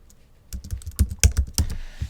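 Computer keyboard being typed on, a short burst of quick, close plastic key clicks and taps in an irregular rhythm, alone with no talk.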